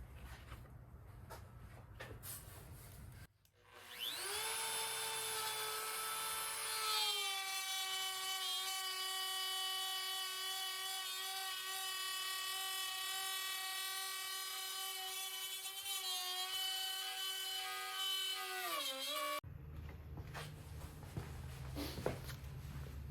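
A power tool on a circle-cutting jig set to a 10-inch radius cuts 20-inch plywood circles, a loud, steady, high whine lasting about sixteen seconds that shifts pitch slightly as it cuts, then stops abruptly.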